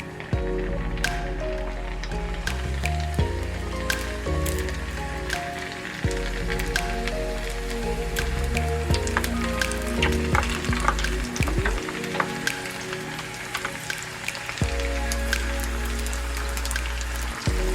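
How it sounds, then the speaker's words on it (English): Wontons fry in hot oil with a dense, continuous bubbling crackle like heavy rain, close and steady throughout, with occasional clinks and pops and no voices. "our oil is hot, so I'm going to go ahead and put our wontons in"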